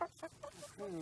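Chickens cluck in short, close bursts, a few quick clucks followed by a drawn-out croaky call.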